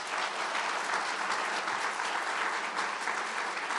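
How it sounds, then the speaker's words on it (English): An outdoor audience at a highway ramp opening ceremony in Buffalo claps in a dense, even round of applause, close and steady throughout with no talking. "How about a round of applause?"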